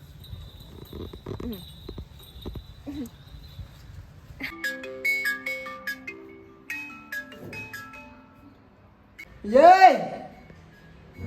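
A short electronic ringtone melody plays in stepped tones after some talking, followed by a louder chirpy burst near the end.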